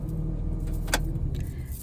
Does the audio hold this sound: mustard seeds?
no